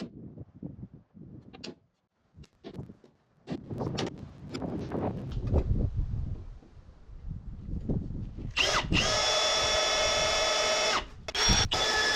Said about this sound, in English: so I am going to attempt to drill those out